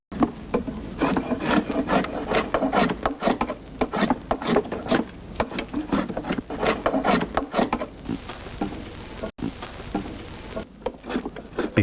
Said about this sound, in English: This work is carried out on a multi-purpose shaving bench, where the cooper uses a Z-messer and foot pressure to secure the blank